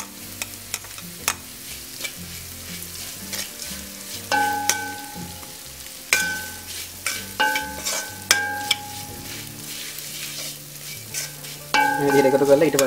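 Eggs going into chickpea kottu frying in a pan, with repeated sharp metal clanks of stirring and chopping over a steady sizzle, louder bursts of scraping toward the end.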